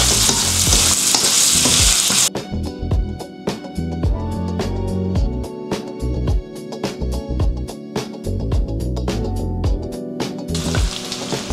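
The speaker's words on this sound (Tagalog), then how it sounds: "Lagay tayo ng butter sa ating sizzling plate." Pork sisig sizzling loudly on a hot sizzling plate while it is stirred and scraped, a dense crackling hiss broken by rhythmic clinks and knocks of the utensil, close and continuous.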